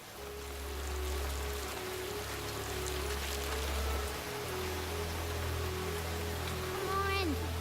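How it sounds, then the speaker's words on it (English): Steady rain in an animated cartoon setting, a broad hissing wash of drops over a low rumbling bed, with a brief voice or whistle-like tone near the end and talk present. "The rain is only getting worse"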